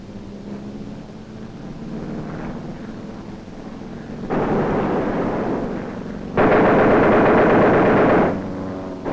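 An aircraft waist gunner fires a machine gun in flight: a steady roar of engine and wind, then two loud sustained bursts of rapid fire, the second one the longest and loudest, with no voices.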